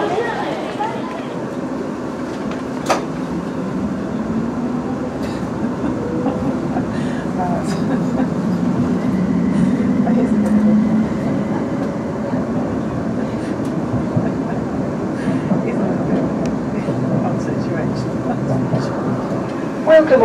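A train rumbles and rolls inside London's Euston Station, a continuous mid-loud drone with scattered clicks and platform echoes, and faint voices in the background.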